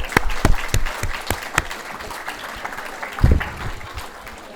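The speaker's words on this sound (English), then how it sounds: "Let's give them one final round of applause." An audience applauds scholarship winners at a Gold & Silver Circle induction ceremony, the clapping loud at first, then thinning to scattered claps before a brief renewed burst.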